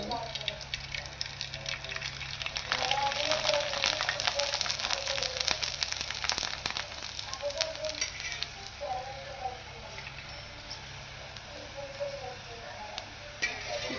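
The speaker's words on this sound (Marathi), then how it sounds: "माझी मग तळते आता एकदम छान अशी मस्त अशी फुगते." Homemade kurdai crisps sizzle and puff up in a small amount of hot oil, a steady close crackle and hiss running throughout, with someone talking over the frying.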